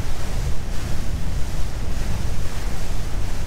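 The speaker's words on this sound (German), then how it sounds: "Der Wind ist wieder etwas stärker geworden." Strong wind buffets the microphone in a steady, loud roar while boating on open water near Sneek in Friesland, with wave and hull wash mixed underneath and no voices.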